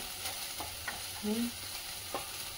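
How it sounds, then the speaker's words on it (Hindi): Onion sautés in a pan for fried rice, a soft, even sizzle broken by a few quiet stirring scrapes and clicks of the utensil. "आतां एका पियाव आनी हें सगळें सॉटे करून घेवपाचें"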